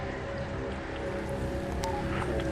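Steady rain falls in the Dying Light video game as a dense, even hiss with a few small splashes, alone and without talk.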